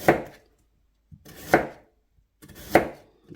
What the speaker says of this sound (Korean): 이것은 무가 그렇게 크지 않으니까 이렇게 반 자르고